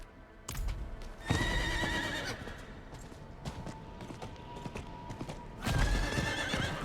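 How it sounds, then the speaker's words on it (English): Hooves clip-clop at a steady run with a couple of horse whinnies in Diablo 4, fairly close, over a busy game-style background with no talk. "Thank God I have a horse now."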